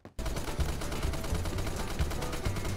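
Sustained automatic fire from an M60 machine gun in the shooter game Phantom Forces, with loud, dense rapid bursts running continuously after a brief silent start.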